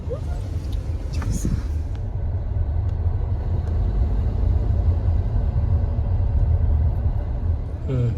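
An automatic car drives along a main road, giving a steady low engine and road rumble from inside the cabin with a faint hum throughout and a brief higher whine near the start.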